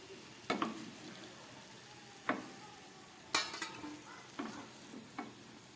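Lobongo latika, a traditional Bengali clove-sealed sweet, deep-fries in oil and is turned over, giving a faint low sizzle broken by a few sharp, scattered clinks of a utensil against the pan, heard close with no talking.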